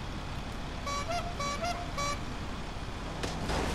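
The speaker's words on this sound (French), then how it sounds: "t'as un klaxon de clown là" A clown car horn honks in GTA Online, a series of short stacked-tone toots repeating in a quick rhythm before a brief final blast, loud over a steady engine-like background.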